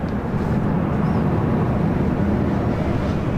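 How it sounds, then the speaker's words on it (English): A KLM Boeing 787-10 Dreamliner in 100 Years livery, arriving at LAX from Amsterdam, gives off a steady, broad jet roar that holds at a constant level throughout, with no voices. "KLM and the KLM 100 Years Livery Flight 601 coming in from Amsterdam, a 787-10 Dreamliner"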